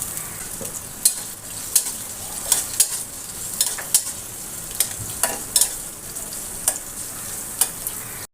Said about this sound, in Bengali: ব্রাউন করে ভেজে নেব